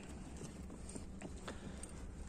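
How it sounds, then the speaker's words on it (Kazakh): A horse being led out at a Kyrgyz horse showing, its hooves clip-clopping in a few soft, irregular strikes over steady background noise. "Екінші атты мұна."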